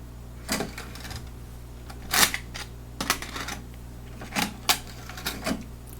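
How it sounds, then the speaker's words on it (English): Sony MDS-JB940 MiniDisc deck ejecting a disc and writing its table of contents: scattered sharp mechanical clicks and clunks, some in quick pairs, over a low steady hum, close and fairly loud. "Now I'm going to eject it and write the table of contents for these tracks that have just been recorded."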